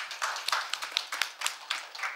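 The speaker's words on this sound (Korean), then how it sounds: "여러분 큰 박수 부탁드리겠습니다." Sparse audience clapping at a symposium on the Busan North Port redevelopment, a handful of separate, fairly close hand claps in an uneven rhythm rather than a full ovation.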